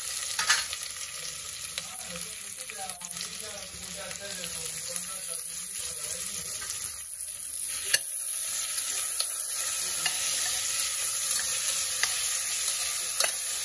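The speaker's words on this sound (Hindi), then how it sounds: "मी तेल तापत ठेवलं आहे गाईज इथे कुकरमध्येच करणार आहे. कांदा छान परतून घेऊया." Onion frying in hot oil inside a pressure cooker, a continuous close sizzle with scraping stirring strokes throughout and a few louder clicks of the utensil.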